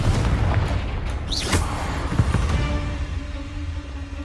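Confringo blasting spell explosions in Hogwarts Legacy, a steady run of loud booming blasts layered with whooshing spell effects and a continuous rumbling game soundscape.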